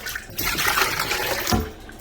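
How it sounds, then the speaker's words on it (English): Peaches in syrup poured from a #10 can into a cooking pot, a wet splashing pour running steadily for over a second, then a short louder slosh near the end, close and alone. "We're just going to pour them right into the pot with the syrup."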